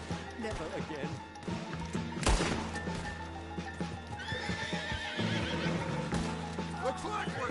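Horse neighing and whinnying in Red Dead Redemption 2, with clip-clop hooves, a sharp impact and game music running underneath, while someone talks over the sounds.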